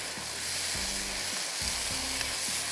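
Garlic and ginger fry in hot cooking oil for a lentil dal, a steady close sizzle with soft rhythmic low thumps from stirring running throughout, no voices.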